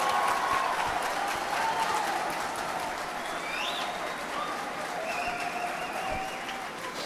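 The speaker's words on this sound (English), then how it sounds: "I love hearing the crowd" A crowd at a Falcon Heavy rocket launch watch party claps and cheers in a steady wash of applause, with faint whistles and occasional whoops rising above it.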